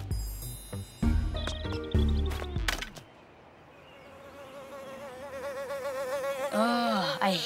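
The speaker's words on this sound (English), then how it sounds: "Oh, I hate mosquitoes." Mosquitoes in Toca Life Stories buzz with a thin, wavering whine that rises and falls in pitch, following a few clattering game sounds, moderately faint and close.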